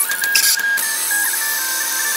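A pen plotter runs with a small controller cooling fan mounted to blow away smoke, giving a steady whirring hum with a few brief mechanical ticks near the start, close and alone without voices.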